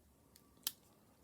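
A single sharp metallic click as the small scissors of an Ottermesser Classic pocket knife snap open, standing out briefly against near-silence, with a fainter click just before it.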